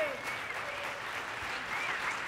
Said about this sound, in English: Big round of applause for our kids.